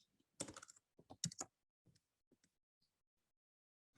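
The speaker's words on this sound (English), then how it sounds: "so if I type Toshiba" Short, crisp bursts of computer keyboard typing, a fast cluster of keystrokes followed by a few scattered taps before it goes silent.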